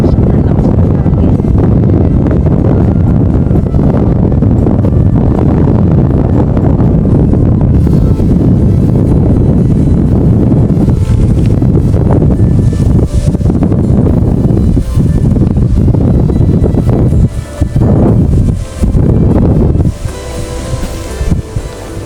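Strong gusts sweep the grassy 960-meter summit of Mt. Banoy in Batangas, a loud, continuous roar buffeting the microphone that surges and briefly drops off near the end.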